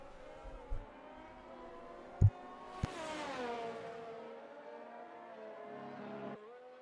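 A race car in an F1 video game rounds the final corner of a qualifying lap at the United States GP, its engine whining and sweeping through the revs, with a couple of sharp knocks.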